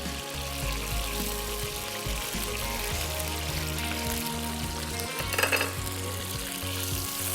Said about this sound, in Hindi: कलेजी को थोड़ा फ्राई करना है।